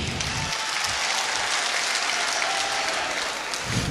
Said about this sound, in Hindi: एक बार आप जोरदार तालियां भाई रूपेश जी के लिए बजा लीजिए